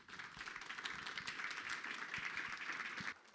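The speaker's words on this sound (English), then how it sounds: "A big round of applause for Nick, Samia, and Eli." An audience at a faculty literary presentation applauds for three readers: a quiet, dense patter of many hands clapping steadily, then stopping abruptly just before the end.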